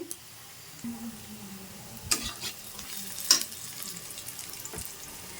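Chopped ginger frying in a pan, a soft low sizzle with a few sharp clinks and scrapes of stirring, fairly quiet and close with no talk.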